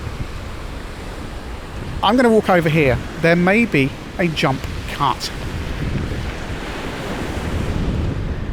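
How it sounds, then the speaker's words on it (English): Wind gusts steadily outdoors by the sea, a constant broad roar that runs through the whole stretch, with a person talking briefly over it in the middle. "It's windy."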